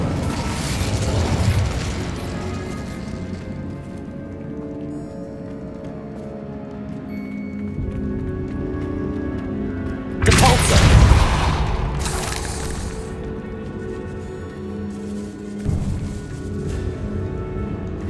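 An Incendio fire spell cast in Hogwarts Legacy inside a decayed catacomb, a loud whooshing burst of flame rising suddenly over a steady rumbling game soundscape, then fading back into the low background.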